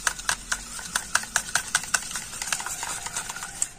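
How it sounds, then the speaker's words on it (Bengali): A spoon or whisk beats flour batter mixed with two spoons of white oil for egg paratha, making quick rhythmic clicks and taps against the bowl that keep a steady, close pace. "তো তেলটা দিয়ে আবারও ব্যাটারটা কিন্তু খুব ভালো করে ফেটিয়ে নিচ্ছি"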